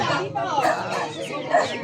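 Chickens clucking close by, several short choppy calls in quick irregular succession, with people talking at the same time.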